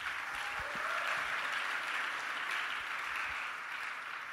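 A church congregation applauds in praise of Jesus: a dense, sustained wash of clapping from a large crowd that holds steady throughout and fades slightly at the end.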